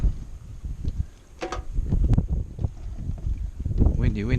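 Gusting wind buffets the microphone outdoors, a low rumbling roar that rises and falls, with some splashing and handling noise mixed in.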